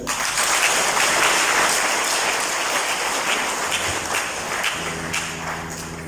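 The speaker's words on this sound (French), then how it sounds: "De ce fait, acclamez pour vous-même." A church congregation applauds during a Sunday Mass, a dense, sustained clapping that fills the space and slowly thins out, with a low tone entering near the end.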